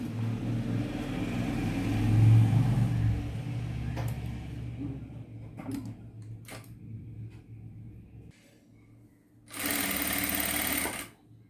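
Sewing machine stitching a work blouse, a steady mechanical whir running near and loud, easing off briefly before a fresh fast burst of stitching near the end.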